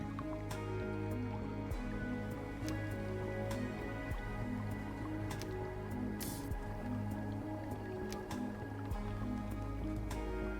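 Rain falls in Endzone: A World Apart, a post-apocalyptic survival city-builder, as a soft, constant patter with scattered drips and squishy droplets over a low steady game ambience, moderately quiet and without speech.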